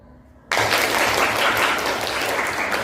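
Classroom of students clapping hands together on cue, a sudden loud burst of applause starting abruptly and holding steady at close range.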